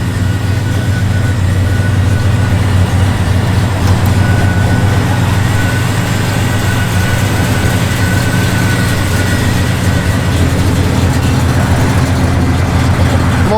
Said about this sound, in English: Flowmaster duals, got the chrome tip, sounds good.